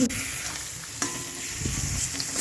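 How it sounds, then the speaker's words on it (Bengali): Fried rice stirred in a hot pan, a continuous loud sizzle with repeated spatula scrapes and knocks against the pan. "ভালো করে এটাকে ভেজে নেব এটা নাড়তে থাকতে হবে"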